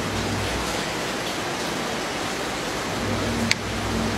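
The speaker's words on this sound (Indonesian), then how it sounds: "Hujan kali di situ, hujan." Steady, dense hiss of rain pouring down outdoors, even and unbroken throughout, with a faint low hum underneath and one brief sharp click.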